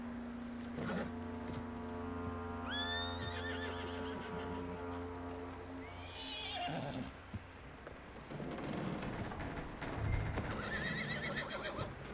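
A horse in Red Dead Redemption II whinnies loudly around the three-second mark over a steady low droning background, followed by snorting and rustling movement, with a few hoof-like knocks toward the end.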